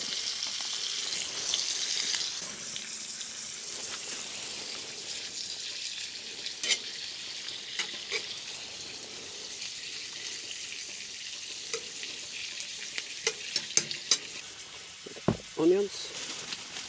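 Onions and garlic fry in a pan at an outdoor camping stove, giving a soft steady sizzle with occasional scrapes and taps of stirring, fairly quiet throughout.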